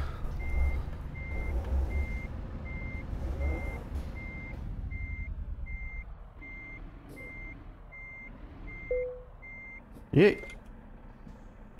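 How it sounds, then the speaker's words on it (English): A truck's reversing alarm in Euro Truck Simulator 2 beeps in a long, even series of short evenly spaced tones over engine rumble, with a brief spoken word and a sharp hiss and clunk near the end. "Stop beeping."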